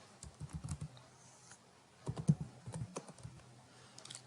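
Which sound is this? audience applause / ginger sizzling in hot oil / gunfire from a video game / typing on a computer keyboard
typing on a computer keyboard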